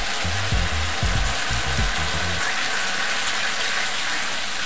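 Tomato, ginger and green chilli paste sizzles loudly in a hot pan for a vegetarian potol dish, a steady broad hiss throughout with a few low clunks early on and no talking.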